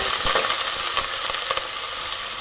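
Shrimp shells frying in a pan with golden garlic and a splash of wine, a steady loud sizzle with a few faint clinks of stirring throughout.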